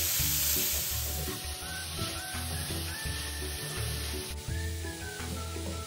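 Shredded white radish stir-fried in a wok with sausage over medium-high heat, a steady close sizzle with rhythmic scraping and tossing of the food, and no voices.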